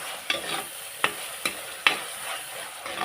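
Onions being sautéed with salt and curry leaves for a sardine curry sizzle steadily in a pan, with a few sharp scrapes of the spoon as they are stirred. Close and fairly loud, with no speech.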